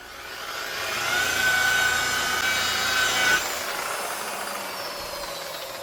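Car polisher fitted with a wool pad buffing heavy scratches out of car paint, a continuous whirring hum that swells and eases slightly, with a sharper change in tone near the middle, alone with no speech.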